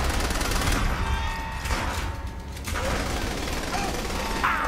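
Gunfire in the video game Saints Row: The Third, dense bursts of shots over loud game noise, with voices talking in parts.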